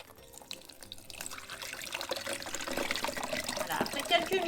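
Red cabbage water poured through a filter, a rising trickle and splash of liquid that grows louder toward the end, with faint voice in the background.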